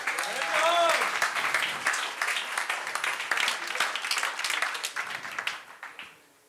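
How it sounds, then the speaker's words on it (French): A crowd at an evening company event applauds warmly, with thick continuous clapping from many hands that gradually thins and dies away near the end; a voice briefly rises over it at the start. "On t'applaudit très fort, s'il te plaît."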